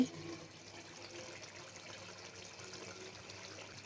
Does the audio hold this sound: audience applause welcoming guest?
no